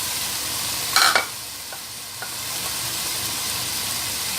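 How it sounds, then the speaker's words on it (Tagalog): Sausage goes into a hot pan for homemade Pinoy spaghetti, setting off a sudden loud sizzle burst that eases into a steady frying hiss with a few faint stirring scrapes. "Ilagay muna natin yung sausage."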